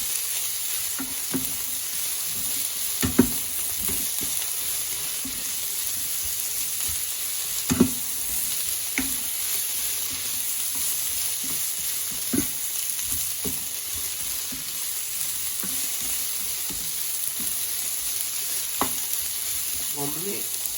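Taiwanese basil chicken with pak choy stir-frying in a pan: constant loud sizzle with occasional clanks and scrapes of stirring, no voices.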